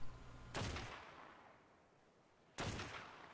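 Two loud, sharp sniper rifle shots from the PvP Kits video game mod, fired singly about two seconds apart, each with a short fading tail and no talking.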